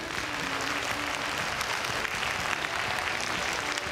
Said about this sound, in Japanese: マッスーライトチームが優勝すると思う人拍手。